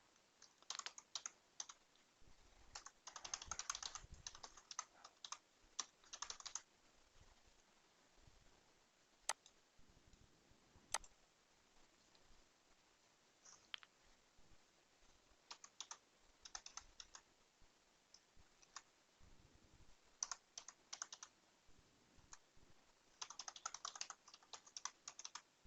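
Computer keyboard typing while domain details are entered on a Windows Server 2016 read-only domain controller setup, with bursts of quick, close clicking keystrokes broken by pauses and a few sharper single key taps.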